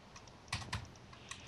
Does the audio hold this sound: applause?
no